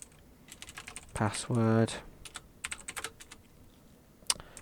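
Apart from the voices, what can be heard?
typing on a computer keyboard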